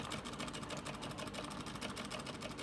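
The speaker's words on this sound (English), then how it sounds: "it's actually sewing on top of the fabric" A sewing machine stitching over fabric, with a fast, even mechanical rattle of the needle that runs steadily and close up throughout.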